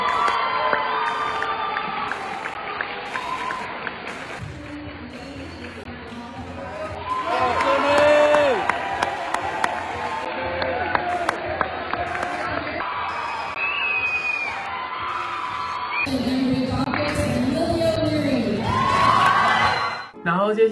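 A school rally crowd erupts in loud, sustained cheering, whooping and shouting, with swells of youthful voices rising and falling across twenty seconds, close and energetic.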